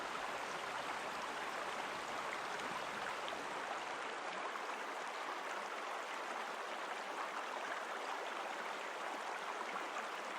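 A flowing river stream at a riverbend, a steady broadband rush of water at moderate distance, continuous and unbroken throughout with no voices.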